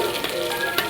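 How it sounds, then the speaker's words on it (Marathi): Mustard seeds and garlic fry in hot oil for a fenugreek-leaf dish, giving a loud, close, continuous sizzle with crackles and popping over a brief moment, with no talk. "तेल, मोहरी, लसूण छान खरपूस असं तळून घेऊ"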